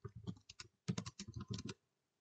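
A terminal command is typed on a computer keyboard in a quick, close run of clicking keystrokes that stops after about two seconds.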